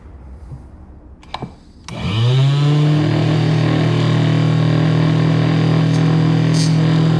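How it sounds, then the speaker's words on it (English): A power saw trimming an excess padeye off a Hobie kayak spins up after a couple of clicks and holds a loud, steady whine, close by. "We're gonna use that saw and go ahead and cut that little excess off."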